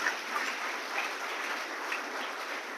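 A church congregation applauds loudly and steadily at a French-language worship service, dense continuous clapping with some crowd noise, holding even throughout.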